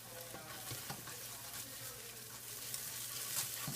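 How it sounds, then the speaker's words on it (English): An egg cooking in an oiled pan for a stir fry, a faint, steady sizzle with light scrapes of stirring, close up and quiet with no talking. "You want to cook the egg till thoroughly cooked first."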